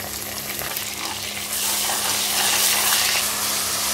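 Ginger garlic paste sautéing with dark-browned onions in a pressure cooker for chicken biryani makes a dense, steady hissing sizzle that swells louder about halfway through, with no talking.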